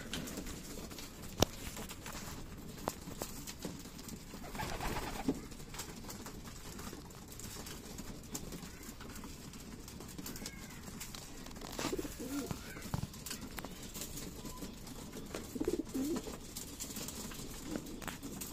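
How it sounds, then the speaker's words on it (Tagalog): Visiting pigeons coo softly over a steady background hiss, with light pattering and shuffling sounds nearby and a few faint, scattered calls. "May meron tayong mga bisitang kalapate, oh."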